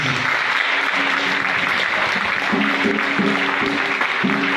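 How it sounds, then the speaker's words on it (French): A church congregation claps for the Lord Jesus during a healing prayer service, continuous applause with tonal music or voices sounding beneath it. "Est-ce qu'on va applaudir pour le Seigneur Jésus?"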